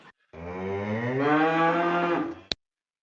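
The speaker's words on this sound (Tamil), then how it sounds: "எருமாடு கத்துற சத்தம்லாம் வருது." A buffalo lets out a single long, loud bellow close by, rising and holding for about two seconds before stopping, followed by a short sharp knock.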